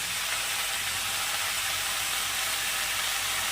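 Vegetables with chopped tomato frying in a pan as salt and turmeric go in, giving a steady, even sizzle and hiss that fills the short stretch without speech.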